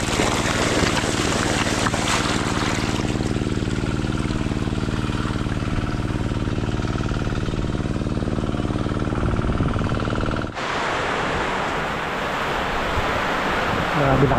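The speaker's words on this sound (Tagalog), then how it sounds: "Grabe lakas ng ulan na." Heavy rain pours steadily and loudly, a dense broadband roar that persists throughout, with a low engine-like hum underneath for most of it, easing slightly toward the end.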